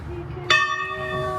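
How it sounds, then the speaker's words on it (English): A bell at the John Muir Home strikes once with a sharp, close, ringing tone that hangs and decays, over a low background hum. "there's the bell"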